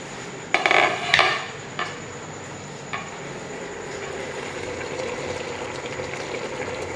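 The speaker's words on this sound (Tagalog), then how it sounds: "after 10 minutes, kumukulo na ang ating paksiw" Paksiw na galunggong fish stew bubbles in a pot, a steady soft simmering hiss with a few clinks and stirring knocks near the start before settling into even boiling.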